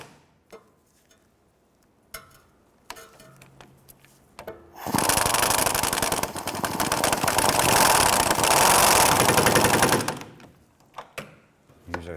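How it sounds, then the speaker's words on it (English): A 16mm swivel socket on an extension runs down the rear sway bar end-link nut on a 2006-2013 Chevrolet Impala, a loud, steady whirring tool burst of about five seconds framed by scattered metallic clicks and taps. "Then we use a 16mm swivel and extension to tighten up the"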